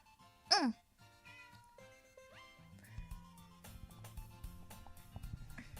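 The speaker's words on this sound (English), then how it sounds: "my cat is upset" An upset cat gives one sharp, loud meow near the start. Softer whimpering tones and game music with electronic tones continue afterward, and there is no speech.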